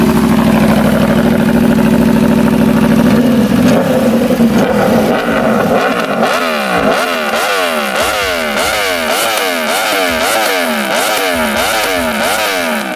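An Aprilia RSV4 1100 Factory superbike, a 1078cc 65-degree V4 four-stroke, idles roughly close by, then breaks into a run of rapid, repeated throttle blips and revs.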